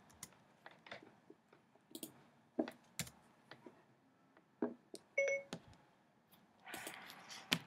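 A mobile phone sounds a few short electronic beeps amid scattered clicks and taps in a quiet room, with no talking.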